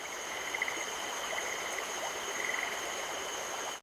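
A male glass tree frog calls with faint, high repeated chirps beside a rainforest stream, set against a steady rushing of water and a thin insect drone.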